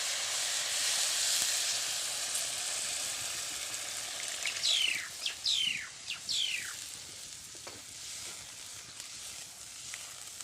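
Water is poured into a hot pan of jackfruit curry, which hisses and sizzles loudly, then settles to a softer crackle, broken by a few short squeaky chirps.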